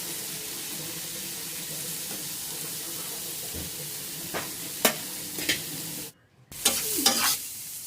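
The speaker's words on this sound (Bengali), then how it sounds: "ভালো করে নাড়াচাড়া করে ঢাকা দিয়ে দেবো, যাতে শাকটা ভালো করে সিদ্ধ হয়ে যায়" Chapa note greens are stirred and fried in a pan with a soft steady sizzle, scraped a few times with a utensil, then a brief pause before the sizzling resumes, with no talk.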